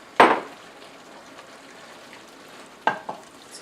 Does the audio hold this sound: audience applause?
no